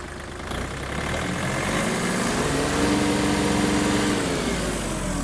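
A small Mitsubishi GOZ-32 mini tractor's turbocharged diesel engine rumbles close by, its pitch and loudness climbing as the throttle opens, then holding at a steady higher rev.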